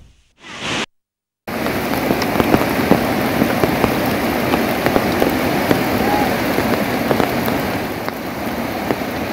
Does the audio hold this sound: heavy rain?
yes